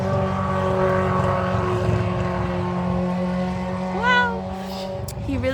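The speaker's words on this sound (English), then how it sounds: "that motorcycle is back again" A motorcycle engine hums as it rides past a house, a steady mid-distance drone that fades slightly before a brief whistling sweep near the end.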